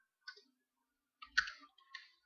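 A few sparse, quiet key clicks on a computer keyboard in a quiet room, a short isolated tap followed a moment later by a small cluster of keystrokes.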